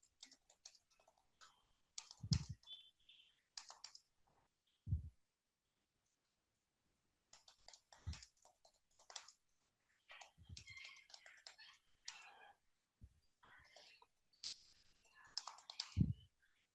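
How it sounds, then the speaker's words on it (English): Keys clatter on a computer keyboard in irregular bursts of sharp clicks separated by short pauses, close and fairly quiet, with a few soft low thumps among the keystrokes. "I'm typing something."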